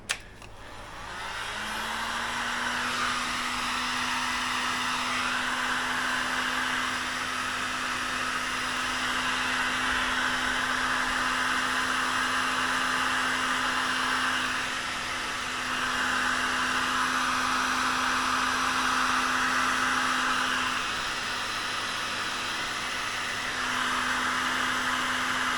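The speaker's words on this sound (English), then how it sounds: "I should be using my heat gun really" A heat gun blows hot air over bike rack wiring, a steady loud whooshing blower with a constant motor whine running nearly the whole time after switching on, no speech.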